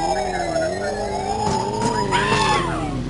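In the video game GTA, an ambulance siren wails steadily in a rising and falling tone, fairly prominent against a low background rumble of game noise.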